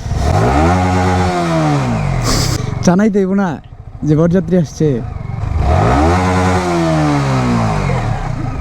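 A Kawasaki Ninja ZX-10R motorcycle revs loudly in two rising and falling sweeps, one at the start and one at the end, as it arrives at a house for a wedding turmeric ceremony; voices speak in the gap between the revs.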